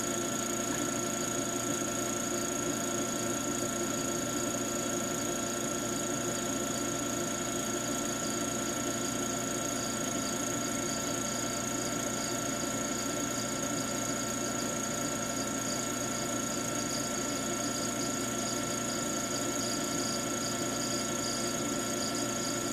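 A pottery wheel's electric motor runs noisily with a steady, even hum and whine that holds at a constant level throughout, with no talking over it.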